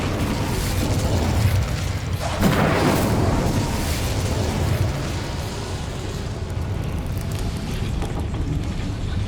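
A fire spell, Incendio, cast in the video game Hogwarts Legacy, lets out a loud fiery whoosh. A burst near two and a half seconds gives way to a sustained roaring rumble, with no voices.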